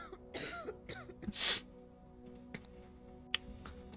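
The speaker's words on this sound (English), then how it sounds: "But she is coughing." A woman in the video game Quarantine Zone: The Last Check coughs and clears her throat a few times in short bursts, fairly close, with quiet ticking and faint background hum between.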